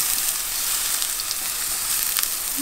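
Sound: frying food in a pan

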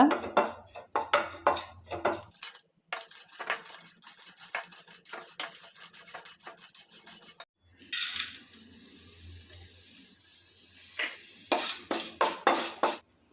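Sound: dried coconut being roasted and stirred in a pan

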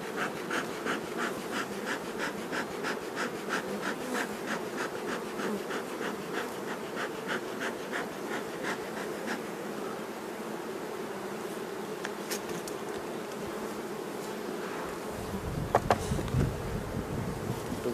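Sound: honeybees buzzing on a hive frame

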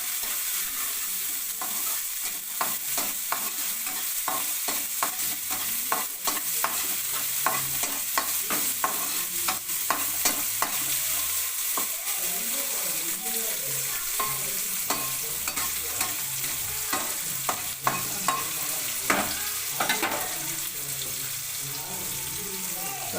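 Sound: green chillies and onions frying in pan

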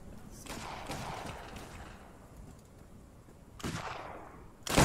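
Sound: musket gunfire in video game Arma 3

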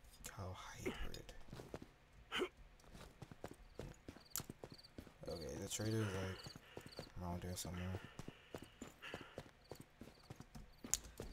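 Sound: horse-cow hybrid hoofsteps in video game Killing Floor 2

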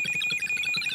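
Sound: electromagnetic field ghost detector alarm sounding

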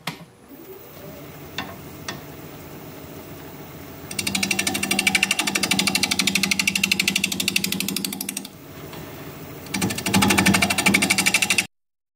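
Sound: wood lathe turning a paper birch blank

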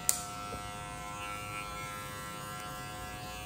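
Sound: electric hair clipper cutting hair, number 2 guard

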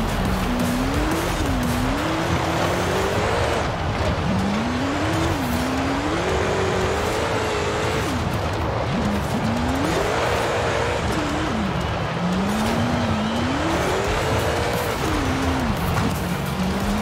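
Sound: car sliding and skidding in a driving video game

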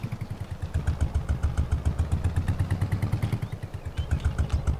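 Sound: modded vehicle driving in video game Farming Simulator 22

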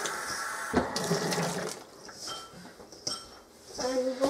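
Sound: washing hands under a tap

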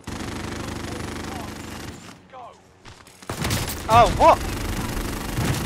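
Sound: gunfire in the video game Call of Duty Warzone

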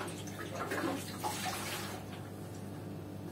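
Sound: petrol sloshing inside a Honda motorcycle fuel tank

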